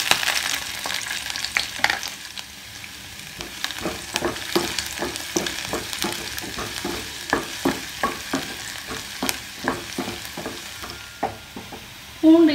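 Four cloves of finely chopped garlic frying in hot oil, with a steady sizzle and regular rhythmic stirring taps of a spoon against the pan, close and clear, with no talking.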